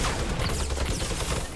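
A minigun fires in a video game, a dense, rapid stream of gunfire bursts that stays loud and sustained for its whole short length, with no voices.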